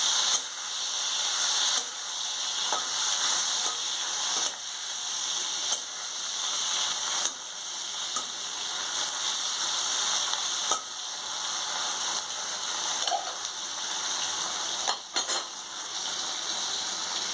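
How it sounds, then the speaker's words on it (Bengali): Prawns frying in a pan of hot oil, a steady loud sizzle and crackle running throughout with occasional stirring scrapes, no voices. "চিংড়ি মাছগুলো আমি আগে ভেজে তুলে নিচ্ছি"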